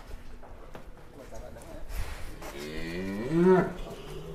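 Large one-ton sacrificial Qurban cattle on a farm in Mojokerto, one giving a loud, drawn-out moo near the end after low barn rustling and faint voices, with a harmonic-rich bellow close to the listener.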